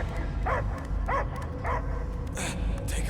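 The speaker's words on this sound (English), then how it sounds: "I hear only barking." A dog in Marvel's Guardians of the Galaxy video game gives several short yipping barks in a loose rhythm, close and moderately loud over a low ambient rumble, with a voice briefly present.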